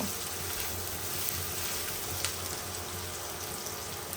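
Chopped onions and garlic fry in a pan for beef curry, giving a steady, faint hiss and sizzle with light crackles throughout and no talking.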